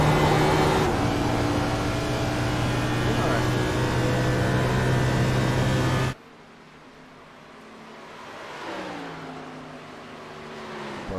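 A sim-racing car engine at Pocono drones loudly at steady revs, then cuts abruptly to a quieter, lower tone whose pitch swoops between gears. A voice speaks briefly near the end.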